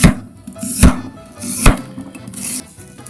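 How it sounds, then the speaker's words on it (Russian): A kitchen knife chopping onion into rings on a cutting board for Soviet-style shashlik, three or four sharp, loud, close chops spaced about a second apart. "И начинаем нарезать лук."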